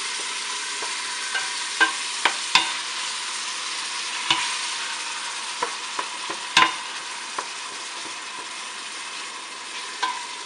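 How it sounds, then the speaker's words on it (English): Beef cooking over medium heat in a pan for Lebanese rice, a continuous soft sizzle with scattered clicks and light stirring taps, close up and without talk. "And you put the heat from high to medium and let the beef cook slowly."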